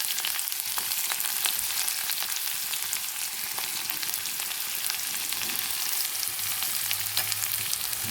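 Cumin, green chilli and onion fry in hot oil in a pan on a gas stove, making a steady, dense sizzle with scattered pops and crackles throughout, close up and uninterrupted.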